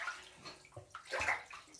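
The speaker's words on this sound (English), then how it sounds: "I'm gonna rinse my hands." Hands are rinsed under running tap water after washing with peppermint castile soap, a brief close splashing and gurgling stream that swells toward the end.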